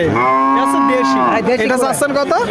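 A cow moos once, long and loud up close at a cattle market, followed by people talking.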